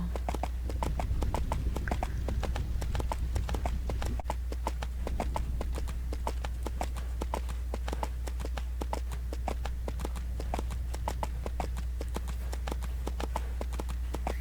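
Steady rhythmic horse hooves clip-clopping on a hard surface, continuous and fairly close, over a low constant hum, in the video game EverQuest 2.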